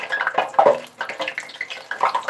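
Tap water runs steadily into a sink while a whole chicken is rinsed before being cut into wing and leg portions, a continuous close splashing with small uneven bursts and no speech.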